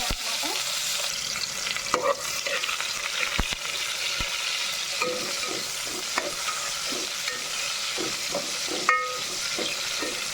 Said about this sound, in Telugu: చక్కగా ఫ్రై చేసేసుకున్నాం కొంచెం గోల్డెన్ బ్రౌన్ కలర్లోకి రావాలి ఆనియన్స్